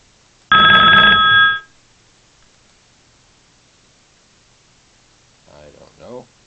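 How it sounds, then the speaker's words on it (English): A short burst of bell ringing, loud and dense like an electric bell, lasting about a second and standing alone against near silence. A brief bit of speech follows near the end. "Alright, there are many sounds, lots of bells."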